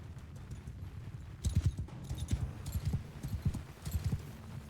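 Cavalry horses' hooves in Mount & Blade Bannerlord gallop in a rapid, uneven drumming that swells into louder, clustered beats midway, with a steady low rumble of battle underneath and no talk.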